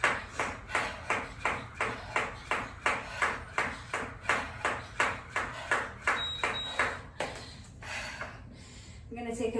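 A jump rope slaps the floor in a fast, even rhythm during a home workout, about two crisp ticks per second repeating close by, loosening slightly toward the end.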